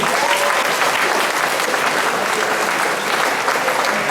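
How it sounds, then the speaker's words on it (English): An audience at a high school track and field awards ceremony applauds loudly and continuously, a thick, even roar of many hands clapping at once with no pauses. "Applause here."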